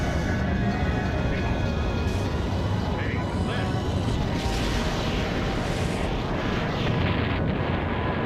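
The Draco Cannon in the Skies of Arcadia video game fires with a dense, rumbling roar and a sustained explosive blast, loud and continuous with a burst of crackling near the end.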